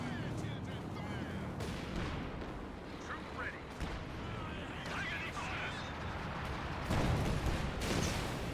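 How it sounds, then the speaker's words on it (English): Steady gunfire and artillery rumble from a Company of Heroes 2 4v4 match as troops fire on a mortar position; dense, continuous battle noise with a louder burst near the end, under a commentator's voice. "Shooting on the mortar at the moment, slowly picking them off"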